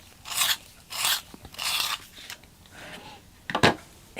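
A holly green colored pencil is sharpened in several rhythmic grinding bursts, about four strokes close to the microphone, ending with a sharper scrape near the end.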